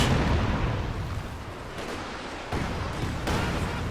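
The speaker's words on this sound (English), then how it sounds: "In comes the Katyusha rockets, close range." A Katyusha rocket barrage in a World War II strategy game roars as a dense, continuous rumble of launches and blasts, loud and close, with a few sharper bursts toward the end.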